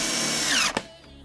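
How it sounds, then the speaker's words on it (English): A power drill drives a screw into a plywood shelf built on 2x4s, with a loud, close, high whine lasting under a second that cuts off abruptly, followed by a faint click. "Let me start my screws for it."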